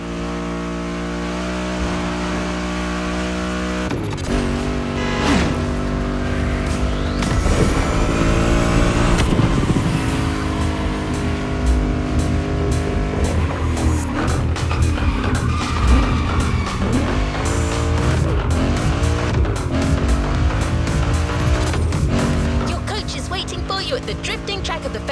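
Race cars drift around a festival drifting track in The Crew Motorfest, engines revving hard while tires squeal and skid continuously, the loud roar rising and falling through long slides.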